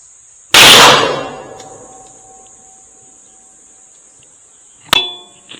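While a rifle fitted with a thermal scope is zeroed, a sharp, loud gunshot cracks and decays. About four seconds later comes the bright metallic ping of the bullet striking a distant steel target.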